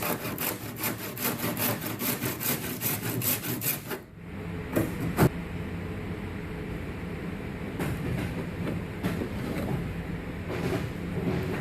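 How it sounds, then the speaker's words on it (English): Handsaw drawn repeatedly down a crack in a wooden boat hull, a steady rasping stroke rhythm for the first four seconds, then scattered scraping and knocks over a low background hum. "what I'm going to do is just run my handsaw down the crack to clean it out"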